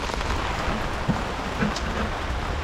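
Rain falling steadily during a thunderstorm, a dense even hiss of drops on surfaces close by, with a faint low rumble and no talking.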